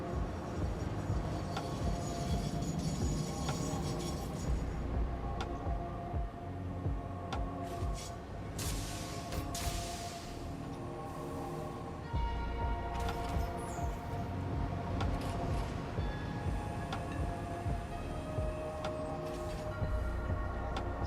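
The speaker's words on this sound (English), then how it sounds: "Not the concrete train," A copper powder train from the factory game Satisfactory rolls past, a steady loud mechanical rumble with clanking and tonal hums running through, brief whooshing swells in the middle and no talk.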